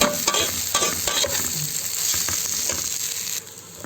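Vermicelli fries with rice for Egyptian koshari while a spoon stirs it, making a constant loud sizzle broken by repeated scraping and clinking against the pot.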